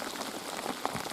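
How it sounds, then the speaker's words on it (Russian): Steady rain falls on water and gear during a fishing trip, a dense even patter of drops filling the scene with occasional closer splashes, no voices. "Вон как идет дождик-то"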